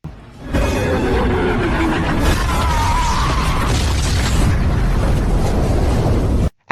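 A bomb dropped from a helicopter in an action movie detonates in a loud, sustained roaring blast, with dense rumbling debris and crackle carrying on for several seconds before cutting off abruptly.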